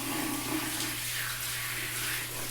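Tap water runs steadily over a lace wig as it is rinsed, a close, continuous hiss and splash at an even level with no voices.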